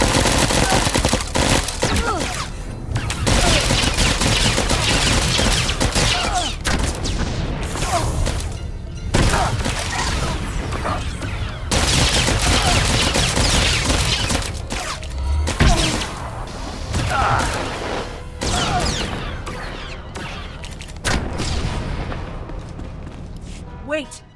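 Sustained gunfire rages through a SWTOR firefight on Voss, with dense rapid bursts and heavy impacts, loud and close and almost unbroken. Voices speak intermittently beneath the shooting.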